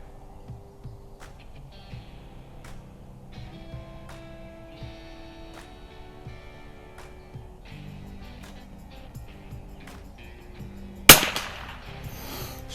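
A single sharp shot from a Weihrauch HW660m bolt-action .22LR target rifle cracks out loud and close at a shooting range, after a long quiet stretch with only faint background clicks.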